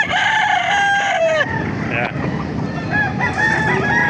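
Roosters crow repeatedly amid clucking chickens at a gamecock breeding yard in Calumpit, Bulacan, with several overlapping crows near and farther off while someone speaks briefly.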